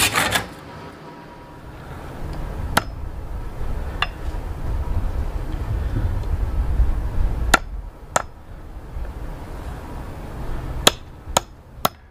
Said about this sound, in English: then we're gonna hammer in that wedge